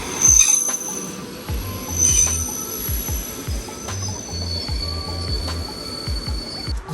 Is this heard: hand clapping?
no